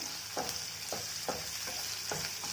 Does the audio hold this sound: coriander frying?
yes